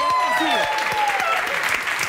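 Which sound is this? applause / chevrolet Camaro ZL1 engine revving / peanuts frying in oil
applause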